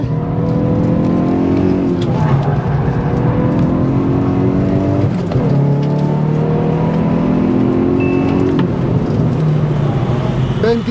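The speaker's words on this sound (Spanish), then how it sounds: "Ya estoy acelerando, ¿eh?" Sports car accelerating hard on a track, one of a Hyundai i20N, Ford Puma ST or Toyota GR86 RZ: a loud, sustained engine roar climbing in pitch through the gears, heard from inside the car with short pauses at the shifts.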